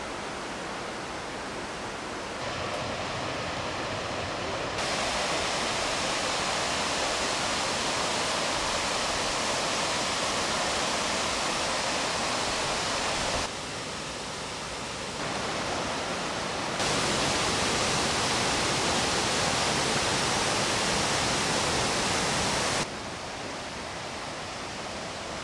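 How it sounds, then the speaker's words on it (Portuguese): The Cachoeira do Paraitinga waterfall in the forest gives a continuous, dense roar of rushing water that stays loud throughout and shifts slightly in level, with no voices. "Conheça no local a Cachoeira do Paraitinga em meio à mata."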